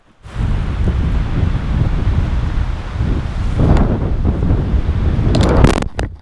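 Strong wind gusting across a campsite in Norway: a loud, steady roaring rumble of buffeting air against the microphone, swelling in gusts, with a brief rattling clatter near the end.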